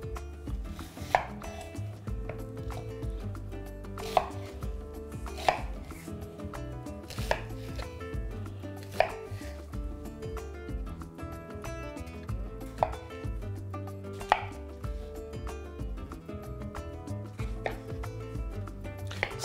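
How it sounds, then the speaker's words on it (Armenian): A knife chops agaricus mushrooms and onion on a board, crisp strikes repeating at a steady, quick rhythm throughout, close and clear with no talking. "Կտրատենք հարմար չափերի։"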